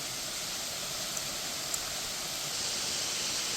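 A waterfall in the Blue Mountains, Australia, gives a steady, broad rushing hiss of falling water that fills the whole clip at an even level, with no voices over it.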